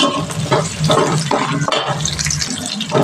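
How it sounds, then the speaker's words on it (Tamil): Onions sauté in a pan for bitter gourd kara kuzhambu with a loud, close, bubbling sizzle that swells and dips unevenly as they are stirred. "கொஞ்சம் நல்லா பொன்னிறமாக வெங்காயத்தை நல்லா லேசாக வதக்கிக்கோங்க"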